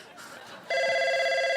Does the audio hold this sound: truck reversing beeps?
no